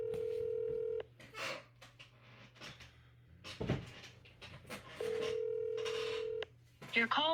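An outgoing call rings in a phone earpiece during a cold call, two long steady ring tones separated by a pause, with faint clicks and quiet speech in between.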